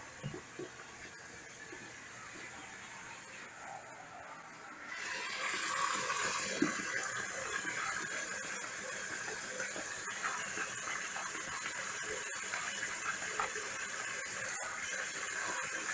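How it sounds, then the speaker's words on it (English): Hot water runs from a kitchen tap into a skillet. A quiet room gives way after about five seconds to a steady, close gush of running water that continues evenly to the end, with no talk. "Now I want to turn the hot water on."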